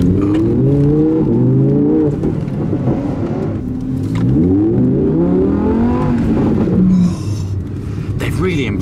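An Audi R8 V10 Plus engine revving up and down through several rising pitch sweeps, loud and close, with a steady rumble underneath.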